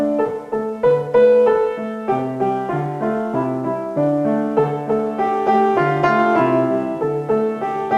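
The Twinkle Twinkle Little Star melody, played in the Dorian mode as a steady sequence of clear, sustained instrumental notes with a gentle even rhythm and no voices.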